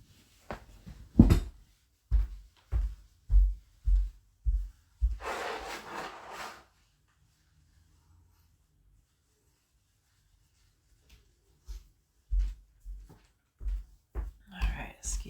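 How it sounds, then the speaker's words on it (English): A person blows their nose in one loud, rough, breathy burst lasting about a second and a half, with spoken talk before and after it. "I need to blow my nose."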